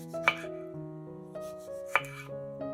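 Two sharp knife cuts land on a board a couple of seconds apart as a tomato is diced, with gentle music playing throughout.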